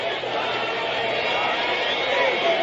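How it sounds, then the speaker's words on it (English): A large ballpark crowd at the 1962 World Series Game 7 between the Yankees and Giants stands for the 7th inning stretch and sings along with a band, a broad, steady wash of many distant voices. "The crowd standing here for the 7th inning stretch, and they are singing with the band as they're playing in deep center field"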